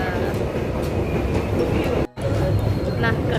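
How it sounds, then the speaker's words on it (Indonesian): A KRD 633 local diesel train slows ahead of Lamongan station at night, a dense steady roar of wheels and rail noise heard from on board with faint clacking and a brief dropout, and a voice talking underneath. "Nah, kereta mulai memperlambat kecepatan, persiapan masuk stasiun Lamongan"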